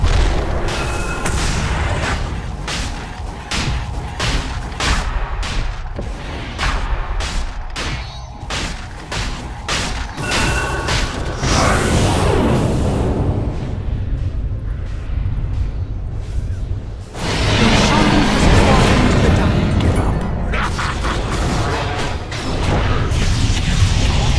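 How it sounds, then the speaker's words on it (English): In the video game Dota 2, a tower comes under attack. Dense, loud explosions and rapid combat impacts roll on continuously with booming bursts, while a brief announcer-style voice is heard over the action. "Dire's bottom tower is under attack."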